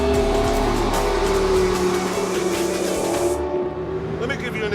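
McLaren P1 hybrid supercar with petrol engine and turbos, a loud engine roar climbing in pitch under acceleration before the high end cuts off abruptly near the close, leaving a lower rumble.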